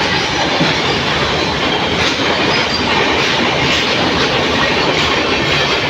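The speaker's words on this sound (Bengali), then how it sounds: "ওই একটা এক্সপ্রেস ট্রেন চলে গেল" An express train runs through a large junction station at Andal, a loud, steady rush of wheels and carriages with clickety-clack and some wheel squeal filling the whole stretch, close by, with no talking.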